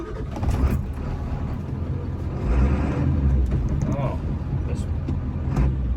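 A 1995 Ford F350 pickup with a turbo and a newly fitted balanced assembly rumbles along at driving speed, its engine note swelling slightly mid-way, heard under ongoing talk.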